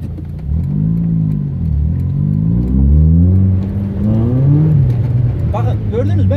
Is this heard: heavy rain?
no